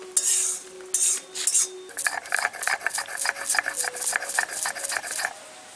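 Fried whole spices, including cumin, are ground on a stone grinding slab with a stone, making a close, rhythmic series of scraping and knocking strokes that speed up after a few slower ones; no speech.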